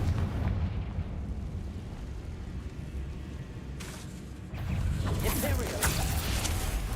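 Confringo blasting spell exploding in the video game Hogwarts Legacy: a short burst around the middle, then a loud, sustained crackling blast and rumble filling the rest.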